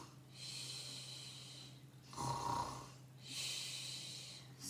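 A storyteller's voice imitates snoring in a children's bedtime tale: three drawn-out, breathy snores in slow rhythm, close to the microphone, each a raspy inhale or exhale separated by short pauses.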